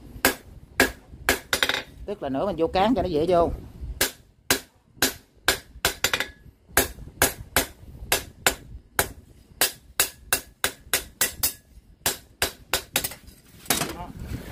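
Metal hammering on a broken kitchen knife's tang to shape it to a point, a steady series of loud, sharp strikes close by, with someone talking at the start over a brief ringing passage.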